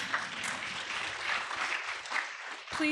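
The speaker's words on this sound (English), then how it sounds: "join me in another round of applause to congratulate the esteemed class of 2024." Applause from a crowd at a graduation celebration honoring the class of 2024: dense, steady clapping that fills the whole stretch, fairly distant and moderately loud, with a brief sharper burst near the end.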